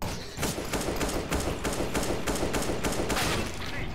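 In Counter-Strike: Global Offensive, gunfire bursts in rapid, repeated cracks at a fast, uneven rhythm, loud and close throughout.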